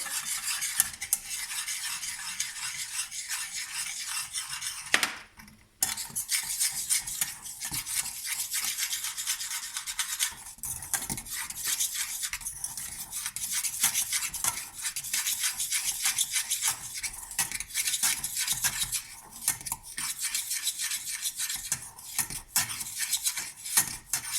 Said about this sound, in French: on mélange tout ça avec un petit fouet